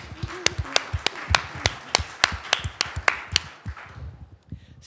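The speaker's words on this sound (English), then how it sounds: "can we give a round of applause to our scientists in the house?" Audience clapping at a keynote event, a burst of sharp, fairly close hand claps in an irregular patter that thins out and fades after a few seconds.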